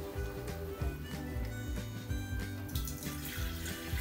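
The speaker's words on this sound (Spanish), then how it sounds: "Colocaremos un poco de agua en nuestro florero" Water poured into a flower vase for a rose bouquet, a steady continuous trickle and splash that runs throughout at moderate, close level.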